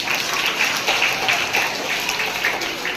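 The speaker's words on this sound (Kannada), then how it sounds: "ಚಪ್ಪಾಳೆ" An audience at a magic show in a school claps in a dense, steady burst of applause that carries on for a few seconds without a break.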